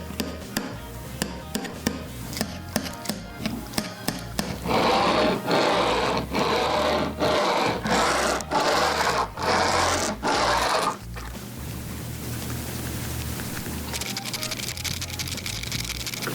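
Tech Deck fingerboard tail pops miked close, a run of crisp sharp clacks in quick irregular succession, then a denser burst of rapid tapping, followed by a quieter stretch with light scraping and handling.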